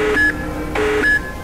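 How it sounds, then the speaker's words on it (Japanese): An enemy attack alarm in the Honkai: Star Rail video game sounds as a repeating two-tone electronic beep, alternating low and high pitched tones, loud and steady over a dense background hum. "これは敵襲警報"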